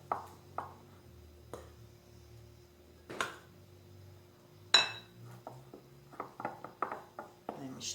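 Pastel de Belém dough is mixed in a bowl: sparse, sharp clinks and knocks of a utensil against the bowl, widely spaced at first, then a quicker cluster of taps near the end, fairly quiet with no speech.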